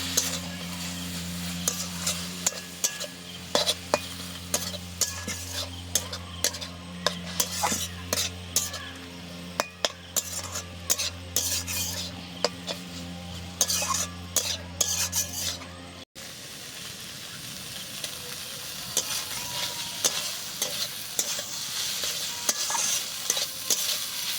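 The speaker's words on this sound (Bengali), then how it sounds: "এবার এটাকে আবার খুব ভালো করে ভেজে নেব।" Shredded chicken for chicken bharta fried and stirred in a pan, with a steady sizzle under frequent rhythmic scraping and clacking of a spatula against the metal, a low hum in the first part.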